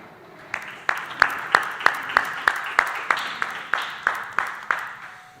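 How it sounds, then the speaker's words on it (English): A small audience at a cyber games draft day gives a round of applause: a dozen or so evenly spaced, sharp individual claps, fairly close and moderately loud, with no talking. "Round of applause for round 7"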